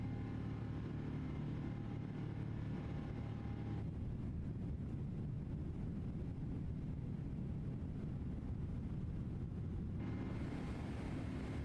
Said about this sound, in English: Listen to the engine sounds, eh? They're just roaring.